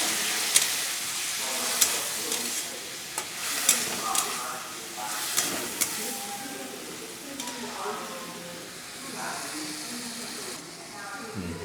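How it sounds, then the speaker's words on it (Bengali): Kajoli fish chorchori masala simmering after a splash of water is added, giving an uneven sizzle and bubbling hiss with occasional sharp spits and stirring clatter, while a voice talks over it intermittently. "এবার এতে একটু আমি জল দিয়ে একটু ভালো করে কষিয়ে নিই।"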